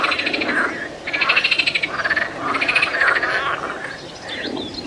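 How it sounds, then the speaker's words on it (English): A dense chorus of frogs croaks in pulsing, rattling bursts that swell and fade every second or so, loud and close, with no talking over them. "It is the frogs."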